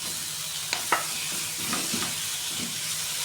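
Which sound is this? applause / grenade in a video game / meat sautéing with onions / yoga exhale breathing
meat sautéing with onions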